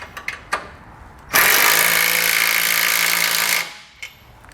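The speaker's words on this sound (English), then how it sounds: "we'll tighten down the through bolt here using a 19mm socket or wrench" A power tool spins up to drive a through bolt on a 2018 GMC Sierra 1500 base plate, a loud sustained whirring burst of about two seconds after a few light clicks, then a final tap.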